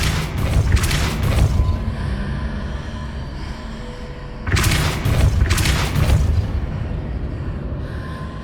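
Depulso force spell cast in the video game Hogwarts Legacy, two heavy booming blasts a few seconds apart, each with a rumbling low-end tail, loud and close with no voices.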